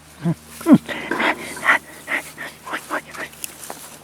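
A puppy with needle-sharp teeth whimpers and lets out short yips, a high squeal standing out among several brief close cries, while a person talks nearby.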